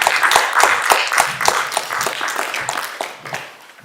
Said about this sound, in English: with a warm round of applause, please welcome Dr. Adeshola Cole.